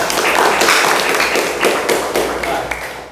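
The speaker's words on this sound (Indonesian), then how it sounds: "Tepuk tangan untuk Faril" A classroom of high school students breaks into applause for a classmate, a loud, dense patter of many hands clapping at once, close by, holding steady for about three seconds before easing slightly.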